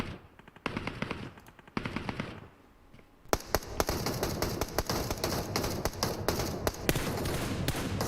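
Gunfire in the PUBG Mobile battle royale game, with scattered bursts of shots at first, a brief lull, then dense sustained rapid fire with sharp loud cracks throughout, heard from a distance to mid-range.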